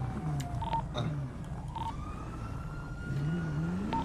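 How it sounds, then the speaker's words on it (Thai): Emergency vehicle siren wails in a driving video game, a rising and falling tone repeating over a steady car engine rumble, fairly loud and continuous with no talking. "มันมีเสียงหวอ"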